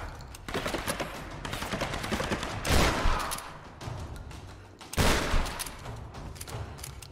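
Weapon fire in the Tomb Raider video game, sustained rapid bursts of gunshots with two heavier blasts standing out, loud and close over game ambience.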